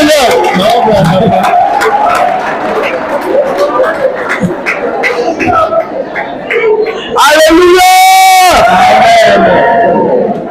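Church congregation shouting and acclaiming the Lord, a loud dense crowd roar with overlapping cries and voices, swelling into a sustained high shout near the end.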